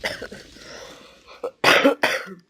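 A sick person coughs hard into a close microphone: a short rough cough, then two loud barking bursts in quick succession, set against quiet room sound.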